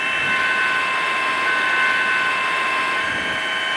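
Hovering rescue helicopter during a rope hoist from a house balcony after an earthquake, a steady loud turbine whine and rotor drone that runs unbroken throughout with no voices.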